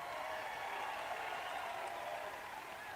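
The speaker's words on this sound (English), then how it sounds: "I don't think I've ever introduced anyone that got applause like he just got" Sustained crowd applause fills a rally in Arizona where Trump is being endorsed, a steady, dense wash of many hands clapping at even loudness with no voices on top.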